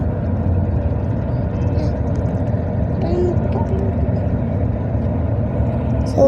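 Heavy vehicles, buses among them, rumble past on a road in a continuous low engine drone, fairly close and steady, while people talk over the traffic.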